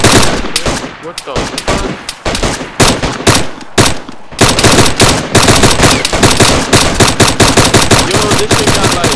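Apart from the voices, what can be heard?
M200 sniper rifle gunfire in a video game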